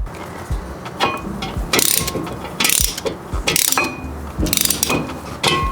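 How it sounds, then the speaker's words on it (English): A hand ratchet clicks in quick bursts while it compresses the brake caliper pistons on a Toyota 86/BRZ, with several loud, close runs of rapid pawl ticks separated by short pauses and no talking. "All you got to do is simply just ratchet away, no mucking about."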